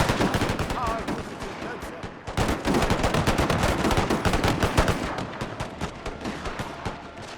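Dense, rapid gunfire crackles nonstop through a Total War Anglo-Zulu War battle, loud volleys with overlapping shots and a brief lull early on before the firing resumes at full intensity.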